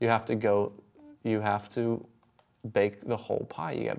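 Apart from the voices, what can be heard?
No everyday noises stand out.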